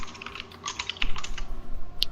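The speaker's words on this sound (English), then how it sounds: "someone is slamming their keyboard at the moment" A computer keyboard is struck hard during an online game match, a quick burst of loud, clattering keystrokes close up over about two seconds.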